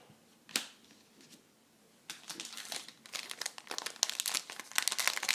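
Crinkling of a trading card booster pack wrapper as it is torn open, with an isolated snap early on, then a dense run of crackling and rustling that grows louder toward the end, close up with no talking.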